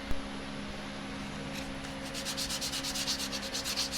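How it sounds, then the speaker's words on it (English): A carved wooden glide-bait lure is sanded by hand with 180 grit sandpaper, quiet at first, then a close, rhythmic rasp of repeated strokes building in the second half. "Now I'm going to take some sandpaper and just kind of smooth it out, make it look pretty."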